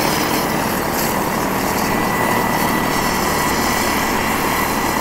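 A radio-controlled model helicopter's rotor spins at high speed outdoors, a loud, steady, dense whine and whir that holds constant throughout with no pauses.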